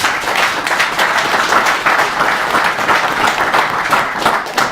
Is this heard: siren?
no